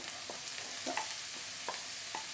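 Chopped banana leaf sautéing in oil gives a soft, steady sizzle, with a few quiet scrapes and taps of a spatula stirring it in the pan.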